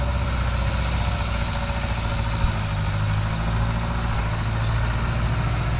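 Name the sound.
truck engine idling during corn harvest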